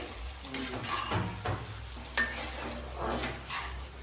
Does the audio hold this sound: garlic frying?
yes